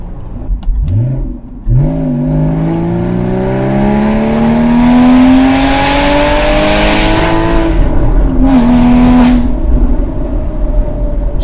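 Car exhaust with an FVD Stage 2 tune and new headers, revving loudly and close through rising gear pulls, climbing in pitch with brief dips between shifts and ending in a short final rev, alone and without talk.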